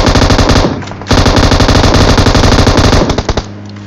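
Loud, sustained automatic gunfire from PUBG Mobile on the Erangel map, long rapid bursts with a brief pause near the one-second mark, then trailing off into a few scattered shots.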